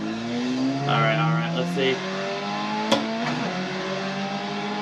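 Formula race car engine in the iRacing sim at Lime Rock, a steady harmonic drone rising and falling as the car accelerates and shifts, under a man's speech.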